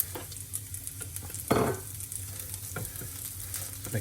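Chili is stirred into a sizzling cauliflower and potato curry, a steady frying hiss with scraping spoon strokes and one louder clattering stir near the middle, close up and wordless.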